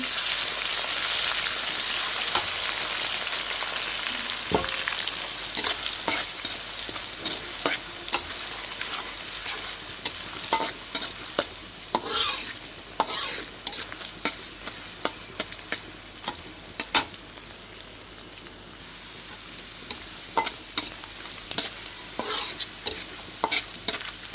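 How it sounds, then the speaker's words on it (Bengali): Onions frying in a karai after bay leaves and garam masala have been fried, a steady close hiss of sizzling oil broken by frequent sharp clicks and scrapes of stirring throughout, with no talking. "পেঁয়াজ ভাজা নিতেছি"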